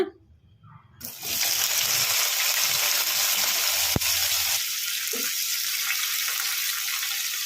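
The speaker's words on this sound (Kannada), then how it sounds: "ಕಡಾಯಿಗೆ 1 ಸ್ಪೂನಷ್ಟು ಎಣ್ಣೆ ಹಾಕಿಟ್ಟಿದ್ದೀನಿ. ಈಗ ಇದಕ್ಕೆ ಟೊಮೊಟೊ ಹಾಕೋಣ." Tomatoes dropped into hot oil in a kadai set off a loud, steady sizzle that holds from start to end after a quiet first second.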